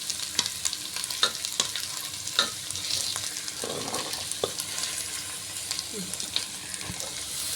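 Onions and carrots sautéing in a pan for dalcha rice, with a quiet sizzle broken by repeated scraping and stirring strokes close by.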